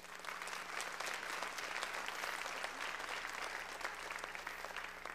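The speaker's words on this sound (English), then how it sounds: "give the Lord a hand clap" A church congregation claps hands in sustained applause, a dense, even wash of many hands throughout, moderately distant and fairly soft, with no speech over it.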